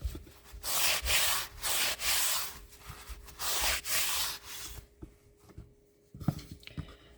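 Hand sanding of painted wood furniture, several rhythmic back-and-forth rubbing strokes with short gaps, close and moderately loud, ending in a few quiet handling knocks.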